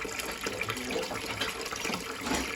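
Water runs steadily from a tap in a domestic heating job after the supply is turned back on, a continuous broad hissing flow lasting the whole stretch with no talk over it.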